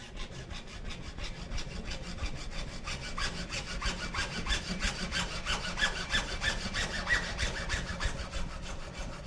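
A hand saw cuts back and forth through a mannequin skeleton limb clamped in a vise, each steady rasping stroke close and even in a regular rhythm with no talking.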